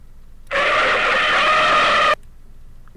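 A single loud car tire screech from 3D Movie Maker's sound library rings out for about a second and a half, then cuts off abruptly into near silence.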